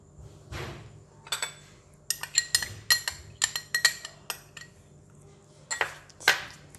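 Crispy fried garlic being stirred into chili oil, a spoon tapping and clinking repeatedly against the container in an irregular series of bright metallic knocks, close and fairly clear over a faint background.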